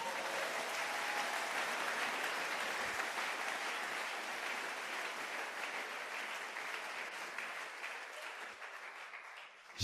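A church congregation applauds in praise of the Lord, a dense, sustained round of clapping from many hands lasting about ten seconds before tapering off.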